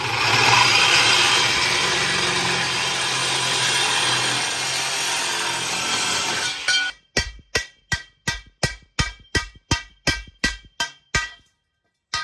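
A wooden stake for a sign frame is cut, first with a steady loud power-saw roar for about seven seconds, then a run of regular rhythmic sawing strokes, each a sharp separate pass.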